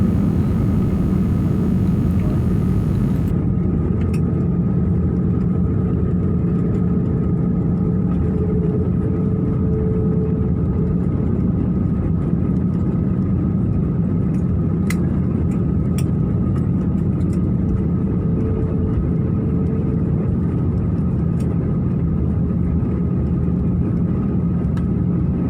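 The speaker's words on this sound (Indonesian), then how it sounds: "ini sepertinya kita sudah landing di Bandara Internasional Soekarno-Hatta" A passenger airplane that has just landed at Soekarno-Hatta International Airport gives a steady, loud cabin rumble and engine drone throughout, with no voices heard.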